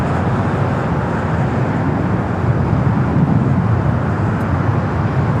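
An Airbus A350 airliner departing LAX, bound for Atlanta, gives a loud, steady broadband roar that fills the whole stretch without a break or any voices.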